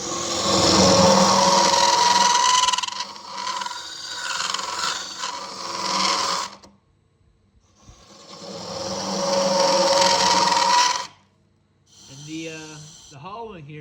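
Hollowing the inside of a wooden goblet on a woodturning lathe gives a steady rasping, scraping cut in two long passes, with a pause between, and a brief voice at the end.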